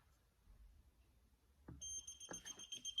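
A couple of soft knocks, then a TopTes PT199 combustible gas leak detector starts a rapid, high-pitched beeping alarm on low sensitivity, fairly quiet overall.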